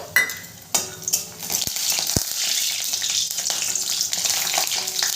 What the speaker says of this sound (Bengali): বড়িগুলোকে নেড়ে চেড়ে ভালো করে ভেজে নেব।